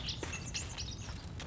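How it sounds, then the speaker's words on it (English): Birds chirping in the Escape from Tarkov game world, short bright tweets and trills repeating over a steady background hiss, fairly close and clear. "You hear this bird chirping"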